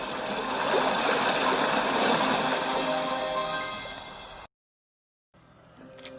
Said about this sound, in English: And the water roared around him.